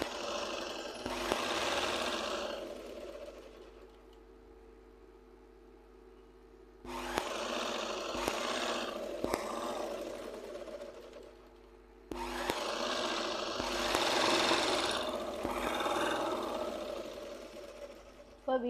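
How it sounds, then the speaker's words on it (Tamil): A sewing machine stitches a V-neck in three loud bursts of whirring motor and needle clatter, separated by quieter pauses. "இப்போ அதை தைச்சி காமிக்கிறேன், பாருங்கள்."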